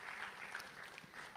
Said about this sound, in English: With a round of applause one more time for our panelists.